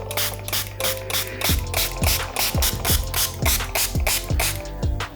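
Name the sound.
spray bottle spraying water onto a product bottle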